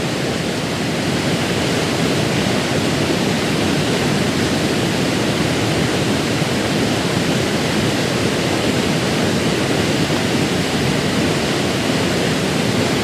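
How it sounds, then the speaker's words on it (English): A waterfall roars from very close range, throwing off heavy mist, as a dense, steady rush of water noise that stays loud and unbroken throughout, with no voices. "There's a lot of mist coming off of this waterfall."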